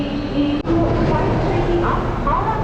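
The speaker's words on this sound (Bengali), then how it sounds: "এই হচ্ছে আমাদের ট্রেন ঢুকছে" A Digha EMU local train rumbles into a station platform, a steady low mechanical drone throughout with brief voices in the crowd nearby.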